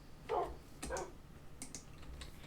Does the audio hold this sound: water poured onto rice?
no